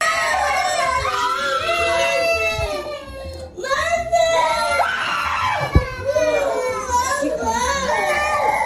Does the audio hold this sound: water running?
no